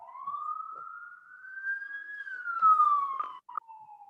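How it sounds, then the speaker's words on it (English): A passing vehicle siren wails outside a window, a single rising then falling tone that swells loud and fades over a few seconds, with no talk over it. "we can edit out the siren that just went by outside my window"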